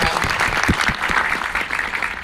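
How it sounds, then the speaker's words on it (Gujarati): An audience at a film star cast event claps, a loud, close burst of applause with sharp individual claps over a continuous patter throughout. "તો તાળીઓ થઈ જાય પહેલા."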